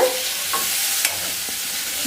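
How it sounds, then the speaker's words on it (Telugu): Steady close-up sizzling of bitter gourd pieces frying in a pan, with a few light scrapes of stirring and no voices. "యాడ్ చేసుకొని చక్కగా వేయించుకోవాలి"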